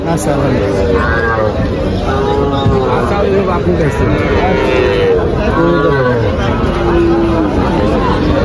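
Sahiwal calves low amid the bustle of Tepakhola cattle market, their moos rising over a constant crowd babble while people talk nearby.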